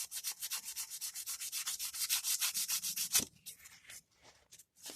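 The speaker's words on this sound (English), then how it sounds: "I'm going to go around with a little piece of sandpaper" A small piece of 400 grit sandpaper scrubs quickly back and forth on the surface of a single barrel carburetor, close and steady for about three seconds, then gives way to a few scattered, quieter scrapes.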